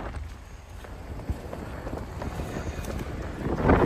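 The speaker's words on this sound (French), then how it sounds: "là vous devez entendre du vent, non?" Strong wind buffeting a microphone while someone runs along the Paris quays past the Musée d'Orsay, a steady roaring rumble with gusts that swell louder toward the end.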